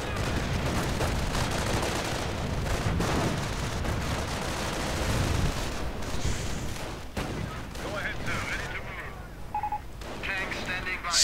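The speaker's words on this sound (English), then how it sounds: "getting simply suppressed against heavy automatic fire from the Browning equipped riflemen" Heavy automatic fire from Browning-equipped riflemen in a World War II strategy video game, dense rattling bursts and explosions under a commentator's voice.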